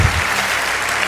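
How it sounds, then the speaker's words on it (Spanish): A church congregation claps together, a short burst of dense applause that starts strong and carries on evenly, with no one speaking over it. "Si va a aplaudir a Jehová, hágalo con toda su fuerza, por favor."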